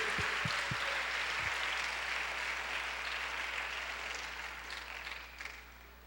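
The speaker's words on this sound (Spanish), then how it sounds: "Dale el aplauso al Señor, porque Él está aquí." A church congregation applauds, a soft, distant spread of clapping that fades gradually over several seconds, with a few sharp nearby claps standing out at the start.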